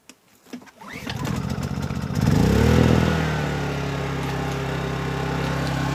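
A single-cylinder four-stroke generator engine is pulled to start, catches and revs up, then settles into a steady, loud close-up running drone.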